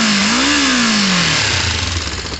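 Motorcycle engine revved with the throttle, a loud close roar that rises in pitch, holds briefly and then drops back toward a rough, pulsing idle.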